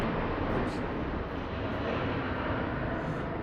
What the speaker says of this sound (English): That noise you hear in the background is a fighter jet.